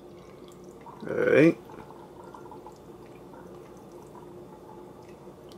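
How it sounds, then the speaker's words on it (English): Homemade carbonated drink fizzing as it is poured into a container, one short bright burst of bubbly liquid noise lasting under a second, close by, followed by quiet room ambience; a voice speaks briefly. "I see like bubbles forming and I hear the fizziness when I pour it in something"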